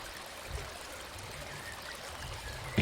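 A river winds through the countryside beside a footpath, its water flowing in a soft, steady, continuous rush that stays quiet throughout, with a small bump of noise at the very end.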